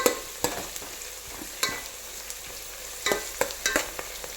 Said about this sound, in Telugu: ఆయిల్లో మనం మటన్ని మంచిగా ఫ్రై చేయాలి కదా